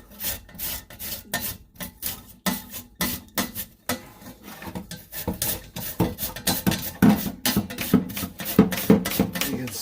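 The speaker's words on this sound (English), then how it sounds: "You can see it's just elbow grease and this old-fashioned grater" Potatoes for hash browns are grated by hand on an old-fashioned grater, making a close series of rasping strokes in an uneven rhythm that grows somewhat louder toward the end, with no talk.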